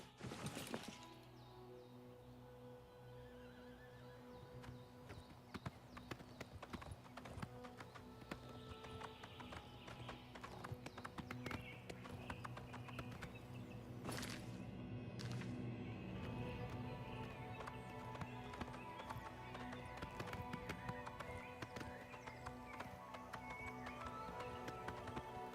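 Faint, rapid hoofbeats of a galloping horse run through a busy soundscape in The Elder Scrolls IV: Oblivion Remastered, with layered effects, occasional crashes and steady background music.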